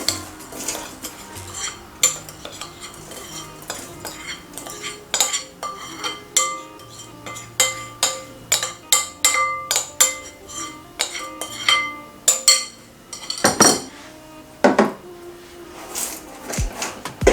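Kinder Bueno cake mixture is poured and spread with metal utensils in a bowl, giving repeated light clinks and scrapes of cutlery against dishes, close and uneven, with no talking.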